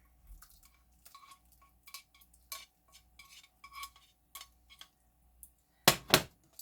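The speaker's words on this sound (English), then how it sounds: "I'm going to transfer my tomato and olive oil and garlic sauce right into the pan with my penne." Penne stirred and tossed in a pan with tomato, olive oil and garlic sauce, soft scraping and clinking of utensil on metal in scattered strokes, ending with two louder sharp clanks.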